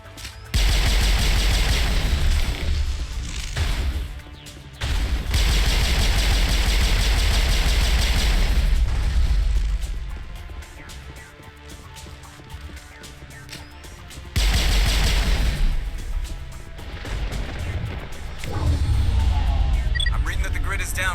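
A gun turret on Virmire in Mass Effect fires loud, sustained bursts that stop twice, then start again. A voice speaks during the quieter middle.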